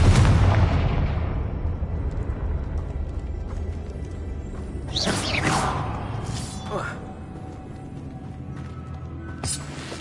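A Confringo fire spell goes off in a video game with a booming blast that decays into a rumbling tail, followed by crackling, whooshing debris sounds and a lingering hum.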